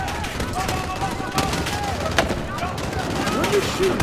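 Rapid gunfire crackles in dense, continuous bursts through a Call of Duty: Modern Warfare battle, loud and close, with voices faintly mixed in.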